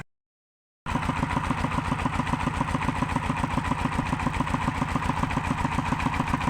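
An engine-driven water pump starts up after a moment of silence, then runs with a steady, throbbing mid-pitched drone, loud and close, pulsing evenly throughout.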